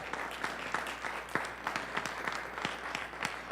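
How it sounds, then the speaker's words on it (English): An audience at a public board of education meeting applauds, a steady patter of many hands clapping at moderate distance with no talking over it. "Give him applause."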